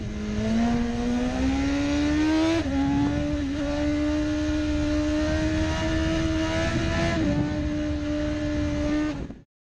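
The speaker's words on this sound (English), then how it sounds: "This BMW motorcycle features a 999cc engine producing up to 193 horsepower" A BMW motorcycle with a 999cc engine revs loudly and steadily, a sustained droning engine note that rises in pitch in steps before cutting off abruptly at the end.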